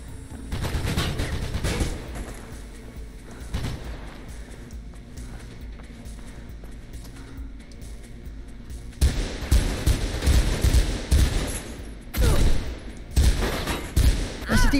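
Enemy gunfire in the action game Mirror's Edge crackles in repeated bursts of rapid shots, loud and close, with heavy clusters early and again in the last third, and quieter stretches between.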